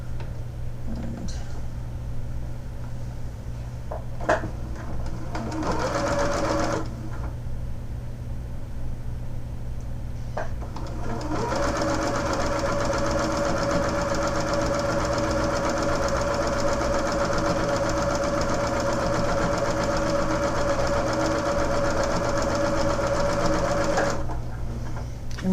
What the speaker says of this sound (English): we're going to go to the sewing machine, and we're going to chain sew these two together